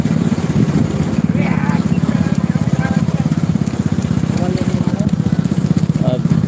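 A motorcycle engine idles close by with a steady, rapid low chugging pulse that runs unbroken throughout, loud and near, with faint scattered sounds above it.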